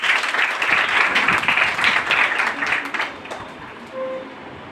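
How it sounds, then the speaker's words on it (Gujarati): An audience at a Gujarati school reading event claps loudly and densely, the applause holding steady and then thinning out to a few scattered claps. "જોરદાર તાળીઓ."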